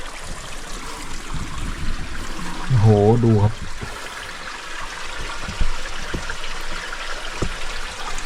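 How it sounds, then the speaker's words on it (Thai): Water from a stream inside a humid jungle flows steadily as a soft, continuous wash beneath the scene, with someone speaking briefly over it partway through. "มีลำน้ำลำธารอยู่ข้างในนะครับ"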